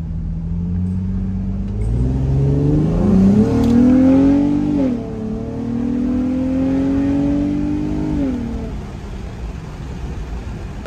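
An Infiniti G35 with a manual gearbox accelerates from inside the car, its engine note climbing through the gears with a loud, rising hum and a brief dip at each shift.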